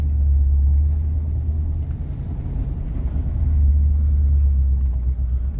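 A cheap, old Rolls Royce being driven gives off a deep, steady engine and road rumble, heard loud and close from inside the car, swelling slightly near the end.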